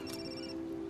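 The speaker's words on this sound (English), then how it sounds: "Is that your phone?" A mobile phone ringtone sounds briefly, a short electronic tone in a quiet room.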